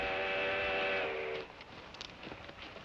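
A steam train whistle from a 1955 Western sounds as the train approaches around a bend, a loud sustained chord for about a second and a half, then cuts off and leaves faint rumbling ambience.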